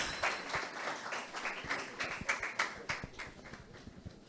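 Faint audience applause after a career-project livestream event, a steady patter of many hands clapping that gradually thins out.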